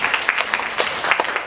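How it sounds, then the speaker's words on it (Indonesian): Seminar audience clapping for a speaker at a public speaking event, a brief burst of many hands with distinct sharp claps standing out, close and fairly loud, with no voices over it. "tepuk tangan buat Mas Zaki"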